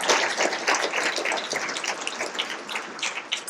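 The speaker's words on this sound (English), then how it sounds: "I do think that deserves another round of applause" Guests at a charity luncheon applaud in a dense patter of many individual claps, moderately loud and fairly close, continuing unbroken for several seconds.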